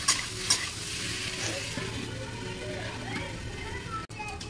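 Pointed gourd and potato curry is stirred in an oily pan, a steady close sizzle with spatula scraping throughout and a few sharp clinks, while a person talks over the cooking.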